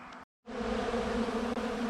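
Dense, continuous buzzing of many robbing honeybees close by around honey supers on a truck, a steady droning hum after a brief moment of silence at the start.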